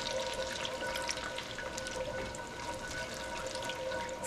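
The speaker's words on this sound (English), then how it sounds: "Now my butter is bubbling" Butter bubbles and crackles softly in a pan with clam juice being whisked in, a faint, steady fizz with scattered tiny pops and no voices.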